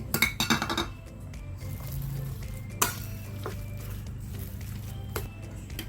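Chopped shrimp are stirred into minced pork in a bowl, opening with a cluster of close clinks and scrapes and then settling into a soft, steady squishing mix with occasional taps.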